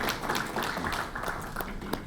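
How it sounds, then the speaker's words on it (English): A keynote audience at a research conference gives a round of applause, a dense, steady patter of many hands clapping at moderate distance with no speech over it. "So that's a big round of applause to all the researchers present over here."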